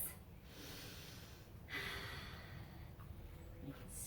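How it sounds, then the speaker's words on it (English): Deep breathing during a children's yoga session, a few slow, soft inhales and exhales, with a louder breath around the middle, faint and close with no talking. "He smelled the flowers with big breaths."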